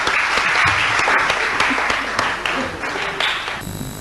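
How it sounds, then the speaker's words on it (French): Steady audience applause from a game-show crowd, dense continuous clapping throughout that thins slightly near the end. "On applaudit quand même."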